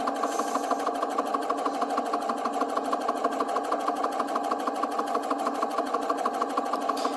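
Serger sewing machine stitching a skirt seam in black thread, a fast steady mechanical whirr with rapid regular ticking that runs continuously at moderate volume, with no talk.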